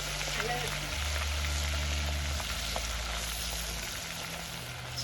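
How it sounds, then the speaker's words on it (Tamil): Prawns sizzling in a pan of hot oil at a seafood cookout, a steady broadband crackle and hiss with a low hum underneath, continuous and fairly close. "இறால் பொரிக்க போறார்."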